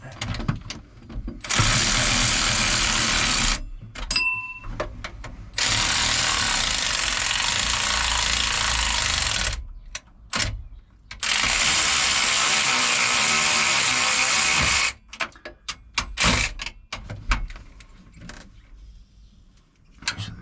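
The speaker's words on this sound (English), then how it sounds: "The old ratchet." A ratchet wrench clicks in loud, close, sustained bursts while working on the engine of a Sea Ray 240 Sundeck boat during an impeller replacement and oil change. Three long runs are followed by shorter, choppier bursts.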